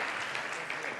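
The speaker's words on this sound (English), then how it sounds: "A round of applause again, please" A conference audience gives a brief, steady burst of applause, with voices mixed into the clapping.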